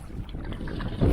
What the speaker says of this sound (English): I don't know how good you can hear me with the wind